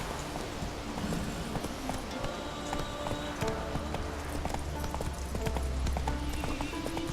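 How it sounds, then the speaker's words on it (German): Horse hooves clip-clopping steadily in The Witcher 3, a continuous rhythmic trot with game ambience and occasional faint voice underneath. "Pferdle."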